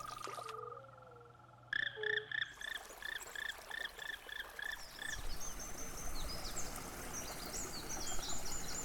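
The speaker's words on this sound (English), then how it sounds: "the native Apennine fire-bellied toad" Apennine fire-bellied toads call in a run of soft, evenly spaced croaks that rise after a quiet start, with insects and distant birds humming faintly behind them in an Italian wild setting.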